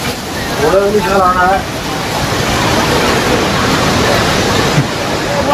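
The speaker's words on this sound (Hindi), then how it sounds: "ये देख ही सकते हो झरना कितना प्यारा लग रहा है पानी का माहौल देख सकते हो" Waterfall beside the Kedarnath trail at Gaurikund, a steady broadband rush of falling water that stays loud and constant throughout, with someone talking briefly over it near the start.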